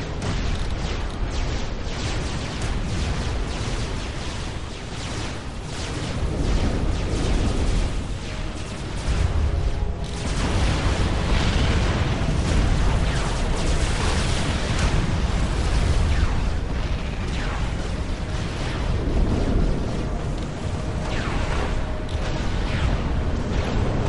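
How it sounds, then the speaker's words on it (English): Massive nuclear strike detonation in Supreme Commander during a UEF campaign battle, a long roaring rumble of explosions and bursts that swells and stays loud, dense with crackling blasts and mechanical battle noise throughout. "I'm gonna opt to nuke the crap out of it"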